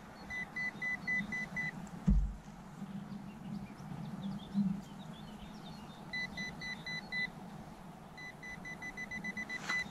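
Repeated short electronic beeps at a steady high pitch come in bursts, pause, then return, from a Nokta Makro PulseDive metal detector signalling on a shell casing, over a low outdoor rumble with a brief thump.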